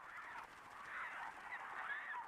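A flock of migratory geese honks steadily, with dense overlapping calls blending into a continuous, fairly distant chorus.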